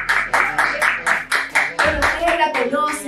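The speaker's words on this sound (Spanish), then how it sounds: "Un aplauso" Studio audience clapping in rhythmic unison for a guest on a Chilean talk show, a steady beat of loud hand claps about three per second under a voice speaking over them.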